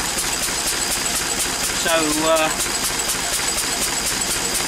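A Lister D engine running on a dyno test bench with a steady, rhythmic idle chug at a regular pulse, and a voice speaking briefly over it partway through.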